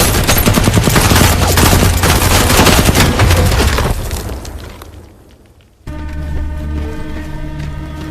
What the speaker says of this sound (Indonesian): sekelompok tentara menghadang dan memberondong mereka dengan tembakan